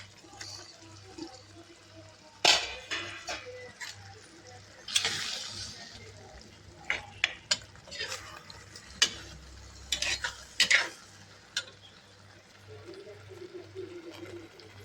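An egg fries in a pan with a soft continuous sizzle, broken by sharp utensil clatters and scraping stirs at irregular intervals. A voice talks quietly in places.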